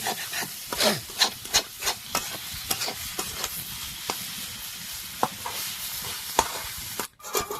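Chicken skin being mixed by hand with turmeric, chili powder, salt, black pepper, meat masala and roasted cumin, producing close, irregular rubbing and scraping strokes with soft squelching, no talk.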